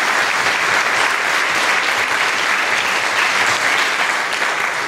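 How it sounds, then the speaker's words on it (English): An audience at a women's empowerment mastermind event in San Antonio applauds a speaker: dense, steady, sustained clapping from many hands, loud and even throughout with no break. "Please give her a round of applause."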